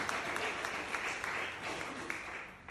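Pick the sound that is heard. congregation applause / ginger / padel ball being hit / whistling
congregation applause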